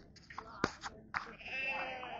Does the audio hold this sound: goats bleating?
yes